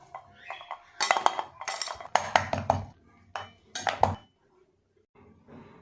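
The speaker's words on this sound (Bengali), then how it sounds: "দুপুরের খাবার প্লেটটা সাজিয়ে নেব।" Ceramic plates and metal cutlery clink and clatter in short bursts while a home lunch of rice, vegetable dal and fried aubergine fritters is plated, close and fairly loud with pauses between.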